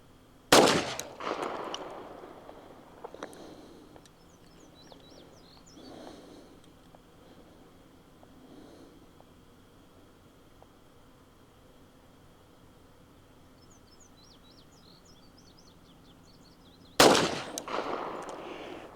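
Two loud single shots from a Colt Gold Cup National Match .45 pistol fired at a gravel pit in the countryside, one at the start and one near the end, each sharp crack followed by a rolling echo, with quiet outdoor ambience between.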